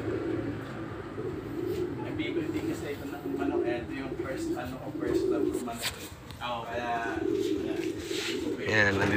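Pigeons coo steadily in a breeder cage inside a pigeon loft, a soft low continuous murmur heard under people talking nearby.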